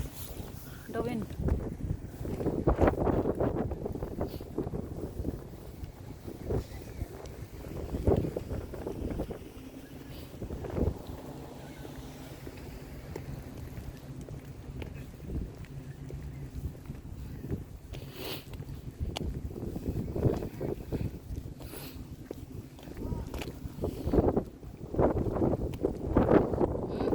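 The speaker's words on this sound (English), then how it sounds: "Okay. It's windy." Gusty wind buffets the microphone outdoors in uneven surges, with rustling bursts rising and falling while a person talks intermittently over it.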